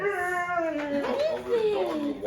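A dog lets out a short, wavering, whiny howl-like vocalization, close and fairly loud, lasting a couple of seconds, with a voice present in the room.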